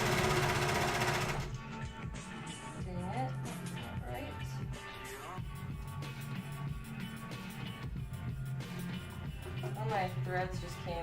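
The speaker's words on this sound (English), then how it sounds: "I am just going to toss this on my serger and get those seams together" A serger sewing machine runs continuously as it stitches the seams of a sailor shirt, the motor whirring steadily for several seconds with a fluttering mechanical rhythm, loud and close, after a brief louder opening.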